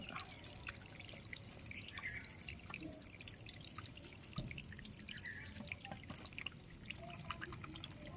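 Wild mushrooms washed under running tap water in a sink, a continuous low splashing and dribbling with scattered drips, fairly faint and steady throughout with no talk.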